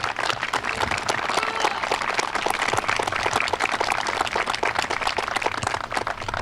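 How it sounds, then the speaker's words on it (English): A crowd at an outdoor Memorial Day ceremony applauds the Woodbridge Young Marines, with steady, dense clapping that holds evenly for several seconds and little talk. "So let's hear a round of applause for our Woodbridge Young Marines."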